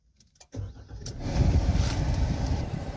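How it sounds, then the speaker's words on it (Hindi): A 2023 Maruti Jimny Alpha engine cranks briefly and catches, then settles into a steady close idle. "चलिए स्टार्ट करते हैं गाड़ी।"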